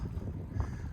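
Wind rushes across an Italian alpine pass in a brief, low, fluttering gust buffeting the microphone, steady and fairly faint.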